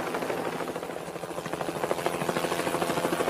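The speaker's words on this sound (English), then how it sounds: "This was no time for a chat with a helicopter." A helicopter flies nearby with a steady chopping rotor pulse that grows slightly stronger and more rhythmic, loud and continuous with no voices.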